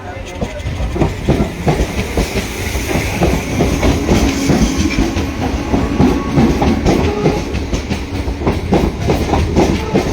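A train arriving from Amta rumbles steadily close by, wheels clacking rhythmically over rail joints with a continuous loud roar throughout.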